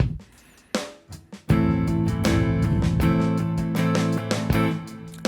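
Funk rhythm guitar strummed in a steady pattern of two eighth notes and a sixteenth-note pair over a backing beat, loud and continuous after a few tentative opening strokes, with no talking.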